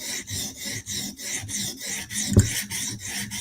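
A knife blade is sharpened on a TSProf Kadet guided sharpener, giving close, rhythmic raspy strokes of stone on steel, about six even passes with one heavier knock midway.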